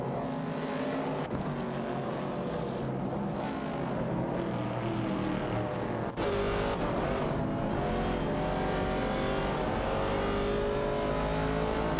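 Race cars, an AMC Javelin 70 and a Ford Falcon among them, roar continuously in a racing video game, with engine tones shifting as they accelerate and pass, loud and close throughout without pause.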